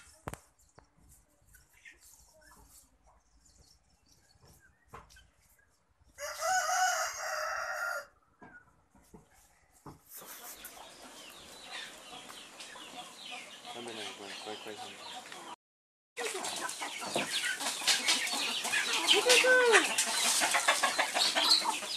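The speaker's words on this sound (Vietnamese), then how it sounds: "Gà đồi, cái này mới là chính hãng gà đồi." Free-range hill chickens in rural Thai country, a rooster crowing loudly between clucks and other farm sounds, with stretches of near silence and some voices in between.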